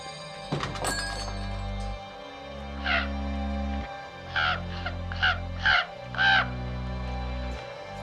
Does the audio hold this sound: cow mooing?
no